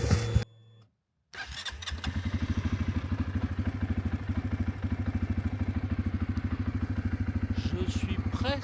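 A quad bike engine starts with a thump and settles into a steady, close, rhythmic idle and putter in a forest, with a brief silence beforehand and faint voices near the end.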